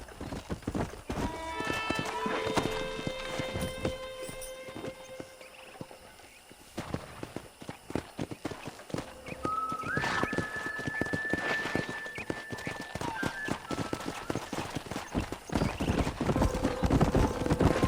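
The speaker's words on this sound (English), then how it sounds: "there's a pack of wild horses nearby" Rapid clip-clopping hooves of several wild horses galloping in Red Dead Redemption, with a loud whinny midway and scattered higher neighs, layered over a busy outdoor game soundscape.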